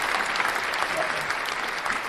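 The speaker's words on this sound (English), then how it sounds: "I want to give a special round of applause to our day one viewers" Applause for day one viewers: a steady wash of clapping from a group, even and sustained throughout without pauses.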